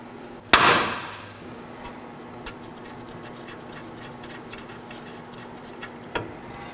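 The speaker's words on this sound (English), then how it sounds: "we'll be hitting the knuckle with a hammer" A single sharp metallic strike of a hammer on a 2013-2019 Nissan Sentra steering knuckle rings out, followed by a few faint taps and a second lighter hit near the end, in a quiet workshop.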